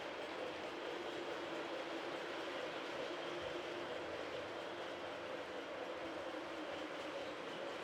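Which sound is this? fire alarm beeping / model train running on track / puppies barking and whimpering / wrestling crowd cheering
model train running on track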